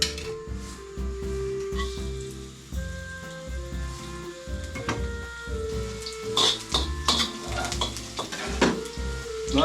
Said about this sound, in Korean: 마늘을 살짝 볶은 다음에